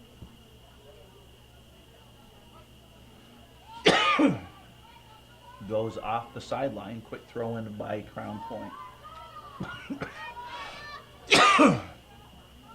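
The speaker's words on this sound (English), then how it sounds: "I'm not sure if you hear those coughs, I do apologize for that" Two loud, harsh coughs ring out near the microphone, one early and one late, with someone talking steadily between them, commentating a girls' soccer match.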